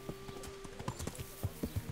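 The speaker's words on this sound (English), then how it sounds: "I am gonna get on my horse." Horse hooves from Kingdom Come: Deliverance clop in an uneven walking rhythm, a string of close, distinct thuds with a faint steady tone in the background and no speech.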